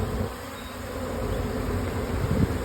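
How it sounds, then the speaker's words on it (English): Dense, steady buzzing of many honeybees on a frame of brood in a nuc hive, close and continuous, with a faint low rumble underneath. "There's that many bees"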